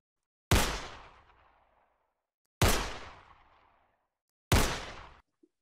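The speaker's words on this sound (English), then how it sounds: "They're shooting at us." Three loud gunshots ring out one at a time about two seconds apart, each a sharp crack followed by a decaying echo, with no voices heard.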